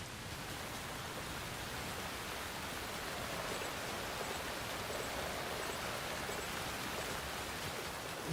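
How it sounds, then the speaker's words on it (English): Rain falls in the video game Alan Wake 2, a steady, even hiss of downpour that runs unbroken throughout, alone without voices. "It's raining where you are standing"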